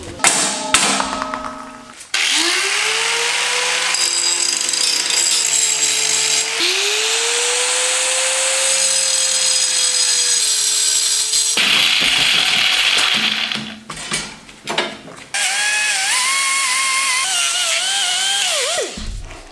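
Power tool cutting metal pipe during a Manco Red Fox motorcycle budget build: a loud, steady whining drone that shifts pitch under load, with short bursts and pauses near the end.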